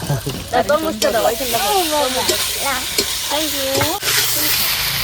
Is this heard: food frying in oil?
yes